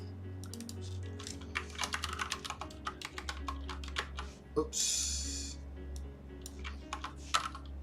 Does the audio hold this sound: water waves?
no